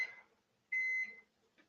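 A microwave oven finishing a coffee reheat gives a short electronic beep, a brief tone, a pause, then a longer clear beep and a faint blip at the end, heard close and alone.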